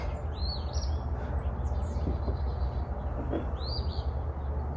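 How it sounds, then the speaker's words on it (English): Birds chirp outdoors in short bright calls scattered over a constant low background hum, with no talking. "Oh, I can hear the birds."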